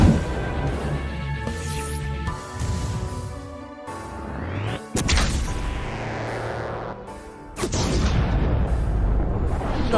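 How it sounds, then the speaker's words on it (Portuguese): Fireworks burst in a game cutscene, a series of loud booms and crackling blasts set among swelling music, with several sharp explosive hits spread across the stretch. "os fogos de artifício estão cada vez mais bonitos"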